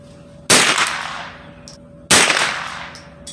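Two sharp, loud shots from a Ruger 10/22 carbine rifle crack about a second and a half apart, each followed by a short decaying echo outdoors.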